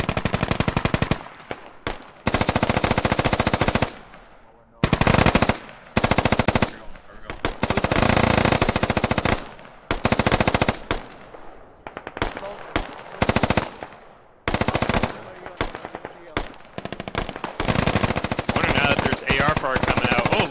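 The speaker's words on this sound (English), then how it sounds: "MG starts to light up the buildings here" Loud machine gun fire in a tactical military shooter, arriving in repeated long automatic bursts separated by brief pauses, with a few sharp single shots mixed in, and a voice occasionally heard between volleys.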